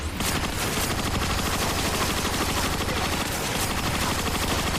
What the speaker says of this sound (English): I did not know I had this heavy-ass machine gun on me